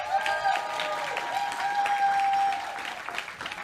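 Applause at a regular caucus meeting honoring a sorority leader, a sustained crowd clapping with some tonal hum underneath, fading slightly toward the end.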